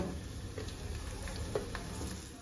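Crushed green chilli, garlic and ginger sizzle with onions in a hot pan, a steady close frying hiss with faint scraping stirs and no voices.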